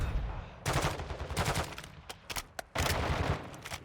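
Gunfire in the DMZ mode of Call of Duty Modern Warfare II: several sharp bursts and single cracks, some rapid back-to-back, loud and close, separated by brief gaps of low background rumble.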